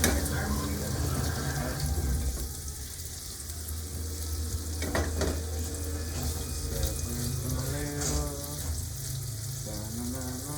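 Tap water runs steadily as hands are washed in a kitchen sink while sausage fries nearby, making a continuous splashing hiss layered with a sizzling background and faint clatter.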